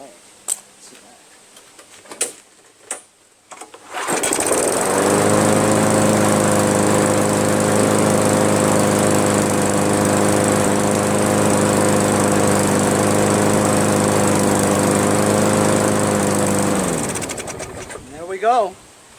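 Craftsman push mower with a Briggs & Stratton 158cc engine, being repaired, starts and runs at a steady, loud drone for about thirteen seconds before shutting down, with brief clunks and handling noises before it fires.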